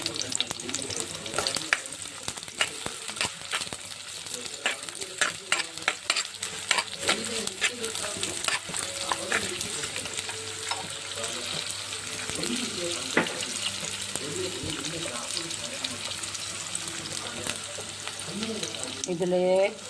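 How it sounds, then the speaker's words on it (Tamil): Onion frying in oil for a tamarind fish curry, a continuous crackling sizzle with frequent stirring scrapes and clatter, close and fairly loud throughout. "இதுக்கு ஒரு வெங்காயம் போடலாம். வெங்காயம் ஃப்ரை ஆகட்டும்."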